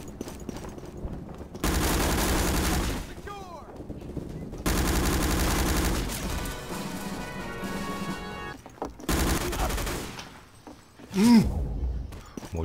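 Gunfire and exploding grenades in the World War II shooter Day of Defeat: Source, loud sustained bursts of automatic fire with sharp cracks and booms that come and go in waves, with brief quieter gaps between.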